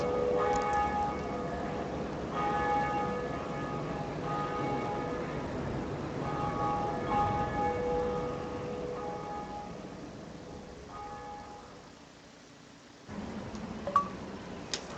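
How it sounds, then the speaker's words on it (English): A bell rings repeatedly in the Dark Souls video game, clear metallic tolls recurring over a steady rumbling background, with the bed dropping out near the end before brief clatter resumes. "Ring the bell."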